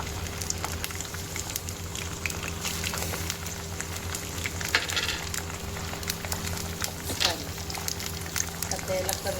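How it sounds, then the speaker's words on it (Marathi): Food frying in hot oil in a home kitchen gives a steady, dense crackling sizzle that runs unbroken for the whole stretch, with a low hum beneath it. "तेल गरम झाल्यानंतर हे पूर्ण टाकून देते."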